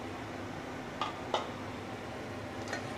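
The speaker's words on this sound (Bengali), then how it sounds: "দিয়ে খুব ভালো করে মিক্স করে নিতে হবে।" Marinated chicken and fried potatoes are stirred in a pan for a Bengali-style aloo chicken curry, with a few distinct scrapes of a spoon against metal over a faint, steady sizzle.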